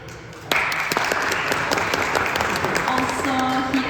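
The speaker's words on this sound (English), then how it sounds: "A big applause for him." An audience at a panel event in Bonn bursts into steady applause that starts abruptly and continues for several seconds, with a few voices faintly audible underneath.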